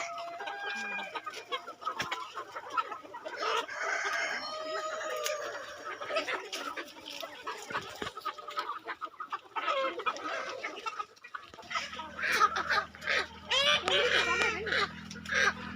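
Several chickens cluck and squawk in bursts close by, with a low hum entering near the end and voices faintly mixed in.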